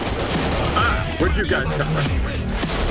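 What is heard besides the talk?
gunfire in a video game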